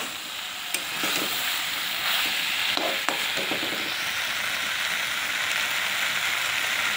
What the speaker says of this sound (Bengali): ভেজে রাখা আলুগুলো দেবার পর একটু নেড়ে চেড়ে কষিয়ে তারপরে জল দেব